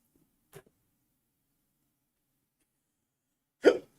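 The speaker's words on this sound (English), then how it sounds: "Oh my god, I got hiccups." Two sharp hiccups from a person, a small one early and a much louder one a few seconds later, separated by silence.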